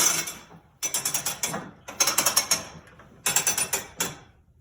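A wooden pioneer-era loom clacks and rattles in three bursts as the shuttle is slid through and pulled, each burst a quick run of ratcheting wooden clicks with short pauses between.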